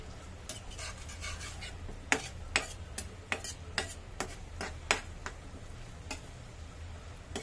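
Ingredients for a sea fish dish fry in oil, a low steady sizzle beneath sharp metallic clicks and taps of a spoon against the pan, irregular and close.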